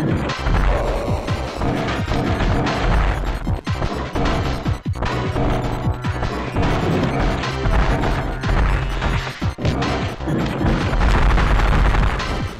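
Fire tornadoes striking the player during the SA-X boss fight in a video game, a continuous loud barrage of crashing impacts and booms with repeated heavy hits throughout.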